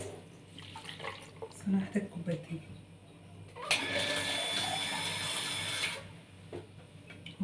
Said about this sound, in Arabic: هضيف كوبايتين ميه